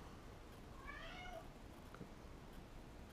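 A house cat gives a short run of meows midway through, faint and somewhat distant, over a quiet room background; no one speaks.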